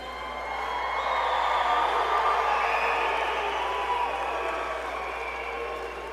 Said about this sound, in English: we could give a big old cheer right now